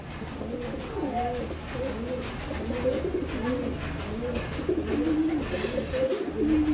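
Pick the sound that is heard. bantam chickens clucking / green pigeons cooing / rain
green pigeons cooing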